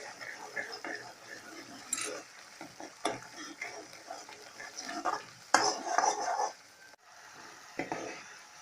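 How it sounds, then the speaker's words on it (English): Onion paste with spices fries in a pan, a soft continuous sizzle broken by scraping stirs and metal clinks of a spoon against the pan, fairly quiet and close. "I'll be adding the onion paste, we'll fry our onion paste"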